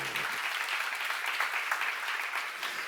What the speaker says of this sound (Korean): 예수가 여러분을 이뻐하는 거 믿으시면 박수를 하시죠